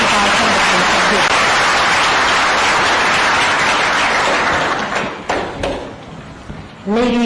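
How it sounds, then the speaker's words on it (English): An audience at a meeting gives a panel loud, sustained applause that fills the room for several seconds, then thins out to a few scattered claps as a voice begins speaking. "let's give them a warm round of applause as we begin our conversation here"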